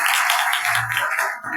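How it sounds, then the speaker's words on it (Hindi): A congregation claps together at a Christmas church service, a steady wash of dense applause filling the whole moment without any voices over it. "आए खुदा के कलाम के लिए जोरदार तालियां"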